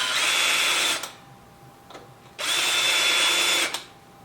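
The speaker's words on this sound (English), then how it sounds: "we're going to basically drill the hole down." A power drill with a hinge drill bit whirs in two strong bursts of about a second each while drilling a hole for a door latch, separated by a short pause with faint clicks.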